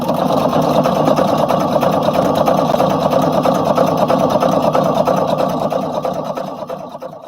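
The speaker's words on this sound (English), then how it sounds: "let's do my top stitching" A sewing machine runs steadily through top stitching on a Simplicity 8855 garment, a loud, even mechanical whirr with rapid needle ticking that holds for about six seconds before easing off.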